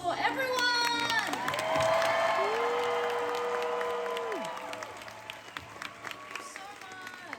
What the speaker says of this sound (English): So another big round of applause for everyone.